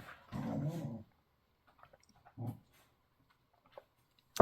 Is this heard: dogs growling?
yes